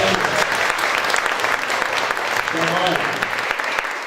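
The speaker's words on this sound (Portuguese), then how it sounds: "Então, aplauso por essa." Audience applause at a literary festival panel, dense sustained clapping from a seated crowd, with faint voices underneath.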